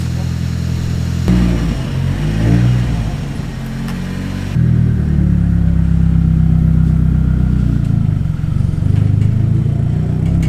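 Nissan Z32 with a swapped SR20DET engine cranking, then idling and rumbling steadily close by, with a voice briefly audible over the running engine.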